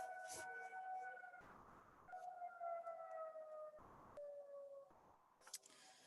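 Faint wailing sirens rise and fall in the distance, broken by a few short bursts of rustling noise nearby.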